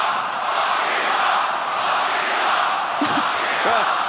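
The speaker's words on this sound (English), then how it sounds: "Are they cheering what I think they are?" Crowd at a flyweight MMA bout between Manel Kape and Felipe Dos Santos roars in a steady, dense wash of cheering, with a few distinct shouts rising out of the noise near the end.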